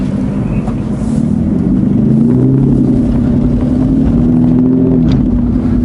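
A 2016 Aston Martin's engine revs with a deep, steady rumble, the pitch rising and falling through a few blips before settling, close and loud throughout.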